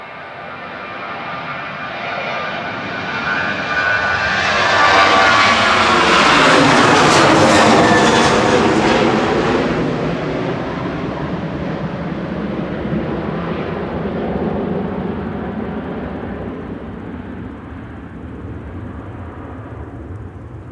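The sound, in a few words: EasyJet jet airliner landing at Manchester Airport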